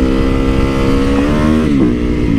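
A motorcycle accelerates hard on a back street, its engine note climbing steadily in a loud, close rev that keeps rising across the short burst.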